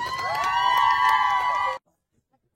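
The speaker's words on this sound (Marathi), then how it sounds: "अगदी जोरदार टाळ्या खेळाडूसाठी" A crowd cheers and whoops for a cricket player honoured as best bowler of a final match won by Malvan, at a prize-giving ceremony; the loud burst lasts under two seconds, then cuts off abruptly to silence.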